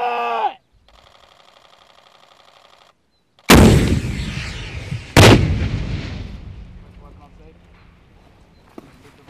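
A rocket fired on a Marine live-fire range gives a sudden deafening blast, followed seconds later by a second sharp explosion, both trailing off into long rumbling decay; a brief shouted command and a radio-like buzz come first.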